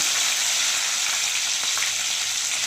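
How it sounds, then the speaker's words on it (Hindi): Green chillies frying with garlic in hot oil, a steady loud sizzle and crackle with faint stirring, close up and without talk. "देखिए यहाँ पे हमने हरी मिर्ची डाल दी है"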